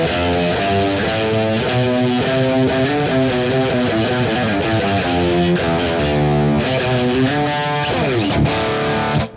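A distorted electric guitar runs up and down a D Dorian scale, each note picked clearly in a steady, even rhythm, loud and saturated with a chorus-like shimmer and no voices over it.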